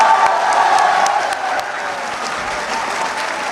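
An audience at a poetry recital claps loudly in sustained applause that eases slightly in volume toward the end.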